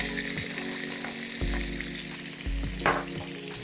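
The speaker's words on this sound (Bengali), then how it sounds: "রসুন আর আদাটা আমি একটু ভালোভাবে ভেজে নেব" Chopped garlic and ginger sizzle steadily in hot oil for mixed fried rice, with a constant close crackle broken by a few sharp stirring knocks of a spatula against the pan.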